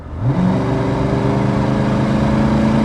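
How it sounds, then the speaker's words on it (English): A 1989 Ford Mustang convertible's 5.0-liter V8 downshifts and accelerates hard during a test drive, its loud, rising engine note swelling quickly then holding a strong, steady roar from inside the car. "There's that downshift again, pulls hard. 5 liter sounds good."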